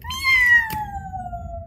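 A single drawn-out cat meow in a children's story, close and clear, rising briefly then sliding downward for over a second against a quiet background.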